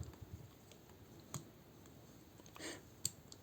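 Plastic parts of a transforming robot toy being folded in, heard as a few faint, close clicks and a brief scraping rustle against a quiet background.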